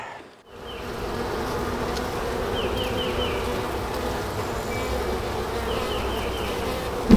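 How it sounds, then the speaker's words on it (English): Dense, steady buzzing of many honey bees swarming close around an open hive during a first spring hive inspection, a loud continuous drone with occasional brief higher whines from individual bees passing near. "Oh, I got bees everywhere. They're everywhere."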